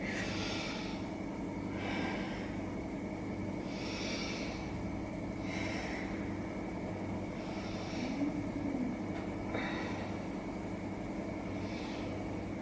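Slow, deep breaths during a yoga back stretch, soft breathy inhales and exhales repeating about every two seconds over a low steady background hum.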